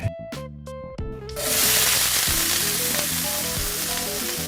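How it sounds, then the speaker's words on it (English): Onion, bell pepper and celery drop into hot avocado oil in a skillet, and a sudden loud, hissing sizzle bursts in after a few brief tones, then holds steady and close. "So, got some avocado oil, that's gonna go down. All right, in go the veggies"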